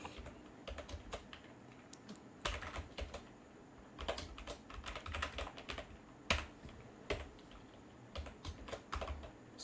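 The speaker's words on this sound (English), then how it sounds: "You can also notice that I am typing very slowly." Slow, uneven typing on a worn computer keyboard while writing Python code: scattered bursts of clacking keystrokes with pauses between them, close and fairly quiet.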